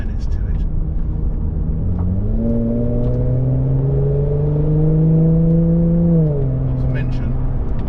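A Mercedes-Benz SL400 engine accelerates in its comfort setting, a smooth, refined drone that climbs steadily in pitch over several seconds and then eases off, heard close and continuous.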